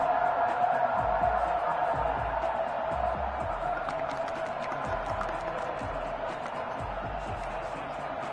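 Stadium crowd in a video game football match swells with steady cheering, a dense continuous roar of many voices that stays loud throughout.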